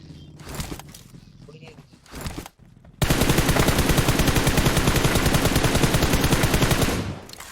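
Rapid automatic gunfire in the mobile battle royale game BGMI, a loud sustained burst of dense shots lasting about four seconds after quieter scattered shots and movement sounds, with players talking.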